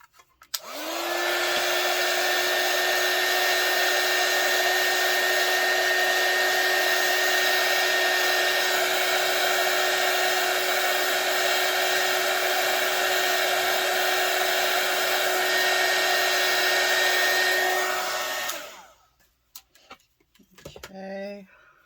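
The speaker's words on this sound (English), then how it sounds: "so I'm going to use my hot air gun" A hot air gun blows steadily on UV resin for about eighteen seconds, a loud even whooshing drone with a high whine, then cuts off and leaves a few faint clicks and handling noises.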